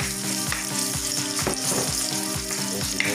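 Garlic and onion fry in hot oil with a steady, dense sizzle and rhythmic stirring scrapes from a spatula in the pan, heard up close and alone.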